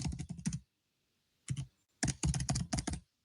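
Fast bursts of close computer keyboard typing as a project name is entered into an online form, with a short pause between groups of keystrokes.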